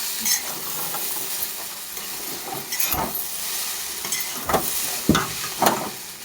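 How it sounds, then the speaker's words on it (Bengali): Egg and chowmein stir-fry in oil in a wok, giving a continuous hiss of frying broken by several sharp scraping strokes of stirring, close and fairly loud with no talking. "শুধু তেল আর ডিম ভেঙে দিয়েছি আর নুন দিয়ে হালকা নাড়াচাড়া করে নিয়েছি।"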